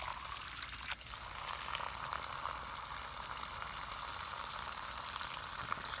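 A Drummond transfer pump drains a water heater, pushing a fast, steady gush of water that rushes and splashes continuously at close range, with no talking.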